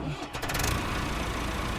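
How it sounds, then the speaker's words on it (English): A tractor engine in the video game Ranch Simulator Southwest, a steady low mechanical drone that starts up and holds at a constant level, loud and continuous, with a brief clattering onset. "Taking the tractor back home."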